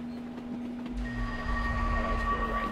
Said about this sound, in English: Come on, little train, you can do it.